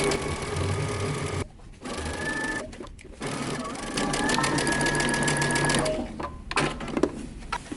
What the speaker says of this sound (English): starting at the hem of our pant legs, we're going to sew that inseam together